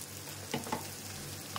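Onion and tomato sautéing in a pan for a drumstick masala, a soft continuous sizzle with a few faint clinks of stirring, quiet and without talk.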